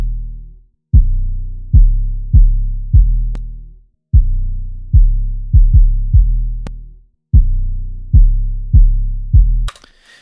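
Soloed low band of an 808 bass with extra punch: a series of deep, booming hits, each with a sharp attack and a sustained tail, grouped in rhythmic bursts separated by short gaps, with no voice.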